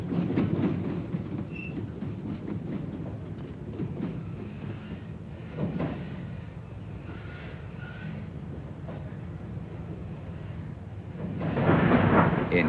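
A 1950s electric railway train runs along the line, a steady rumbling roar with rhythmic rattling of the cars that swells louder toward the end.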